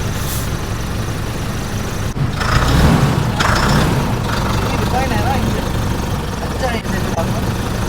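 A Tata LPT 1916 truck's 3.3 litre diesel engine idles with a steady, loud low rumble, close by, while someone talks over it.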